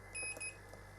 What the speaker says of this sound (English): a continuity, a beep test, just to make sure